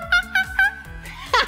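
A voice imitates a monkey with three short, bright hooting calls followed by a louder final squeal, close and clear with nothing else in the background.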